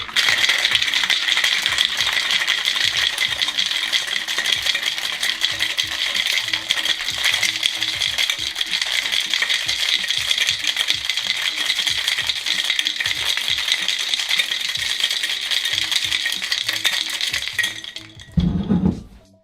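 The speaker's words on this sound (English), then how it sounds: "Now give it a good hard shake for 10 seconds." Hard, rapid rattling of ice inside a cocktail shaker while an espresso martini is shaken, a continuous loud clatter that stops abruptly near the end.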